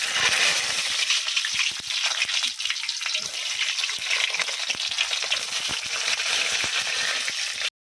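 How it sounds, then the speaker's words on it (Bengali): Eggplant pieces coated with turmeric and salt fry in a nonstick pan with a steady, loud hiss and crackle that runs unbroken throughout, with no talking. "তো এইদিকে হলুদ লবণ মেখে নিয়েছি সুন্দরভাবে, এখন এটা ভাজা হতে থাকুক"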